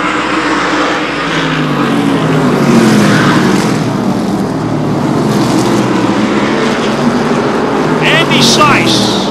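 Short track stock cars roaring around an oval during an Oktoberfest race, a loud steady blend of many engines near and far, with an announcer's voice running over the top throughout.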